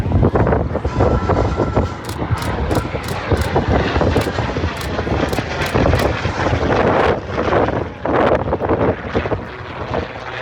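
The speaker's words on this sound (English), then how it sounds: "But watch here, the aircraft in back low to the right." A propeller-driven A-1 Skyraider flies past at an air show, its loud piston engine drone swelling and rumbling steadily with wind buffeting the microphone throughout.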